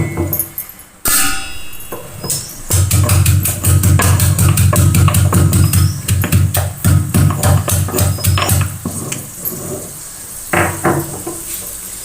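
Ginger, garlic and a few small shallots are pounded in a kitchen, a rapid run of loud, close thumping blows that keeps up steadily for several seconds and then tapers into a few scattered knocks.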